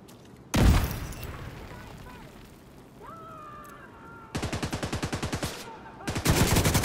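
Gunfire in The Division II video game: a heavy shot blast, then two long rapid bursts of automatic fire with evenly spaced cracks, loud and close, separated by a quieter stretch.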